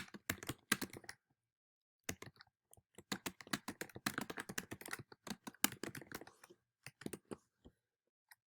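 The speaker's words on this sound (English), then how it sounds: "typing in my next question" Rapid clicking of computer keys in quick bursts separated by short pauses, close and clear, with no talking.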